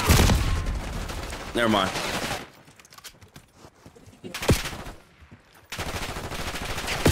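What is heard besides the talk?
gunfire from video game Black Ops 6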